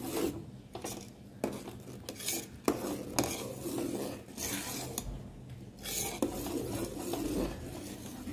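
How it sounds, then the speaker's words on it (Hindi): A spoon stirs jaggery into a sweet mixture in a pot, giving repeated scraping and rubbing strokes against the metal in an uneven rhythm, close and fairly quiet. "so to avoid sugar May ఇస్మే jaggery mix కర్ రహి హూ"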